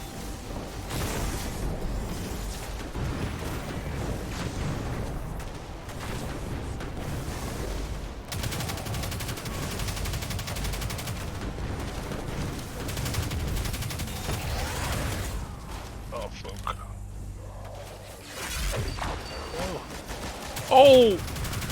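SMG and other gunfire in the video game Destiny 2, a steady dense stream of rapid shots and explosions running throughout at moderate level, with a brief louder burst near the end.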